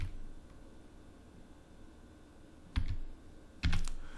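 Typing on a computer keyboard comes through as a few isolated, close keystrokes, with a brief clatter of two or three keys near the end over quiet background hiss.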